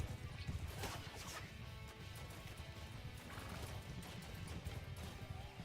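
Horses gallop amid horse archers in a Mount & Blade Bannerlord battle, with thudding hoofbeats, occasional neighs and crashing combat noise in a dense, continuous mix.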